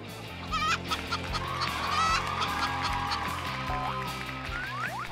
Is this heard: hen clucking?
yes